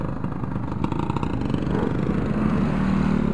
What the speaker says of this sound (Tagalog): Ayun o, may mga motor dito eh.